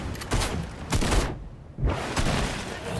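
Bursts of rapid gunfire in Fortnite crackle in dense volleys, pausing briefly before resuming, loud and close with a harsh, noisy texture.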